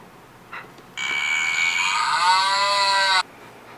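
A single long, loud moo from a cow, held for a couple of seconds and sliding lower toward the end, with no voices around it.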